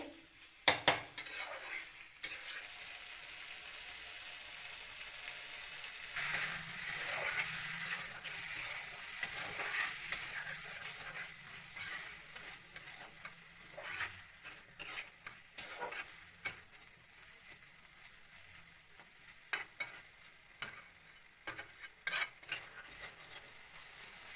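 Masala and potatoes sizzle in a pan for fish curry while a utensil stirs and scrapes against the metal, with frequent clinks and clatters close by and the frying hiss swelling midway.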